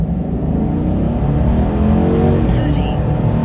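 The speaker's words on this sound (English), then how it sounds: "We're gonna stall up the truck a little bit and then just hammer down." A 2021 Ford F150 pickup in sport mode launches hard from a standstill, its engine roaring loudly and climbing steadily as it accelerates, with a voice talking over it.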